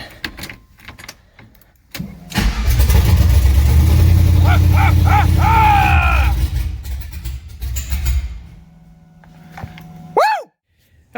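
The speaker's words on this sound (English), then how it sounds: "So I got the engine up running, obviously. Pretty choppy idle, and wasn't really wanting to stay running." A Chevelle with an LS engine swap cranks and fires, then runs loud and close with a rough, choppy idle and some revving before it dies. A sharp squeal follows near the end.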